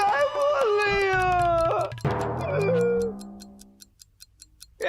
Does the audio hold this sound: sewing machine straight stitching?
no